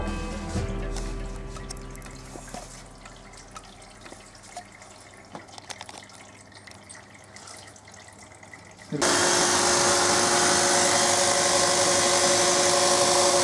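An IFB Executive Plus fully automatic washing machine starts filling: after quiet trickles and faint clatter, a loud, steady rush of water abruptly kicks in and continues evenly to the end.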